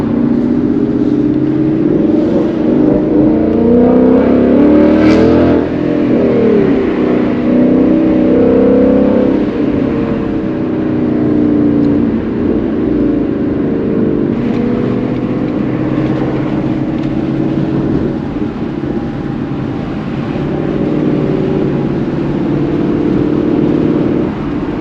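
A 2022 Ford Mustang GT cruising from inside the cabin, a loud steady engine drone with rises in revs that swell and ease over a continuous road hum, heard alone.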